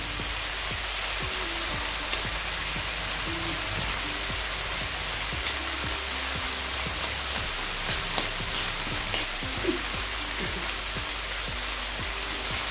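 Shrimp fry in a pan with a paste of green chili, ginger and garlic, making a dense, continuous sizzle like heavy rain, loud and close, with a few faint clicks and no voices.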